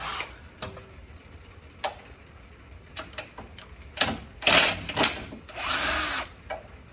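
A Snap-on power tool spins out flywheel bolts on a front-wheel-drive Honda Civic, giving several short, loud whirring bursts with pauses between them, the last one longer and steadier.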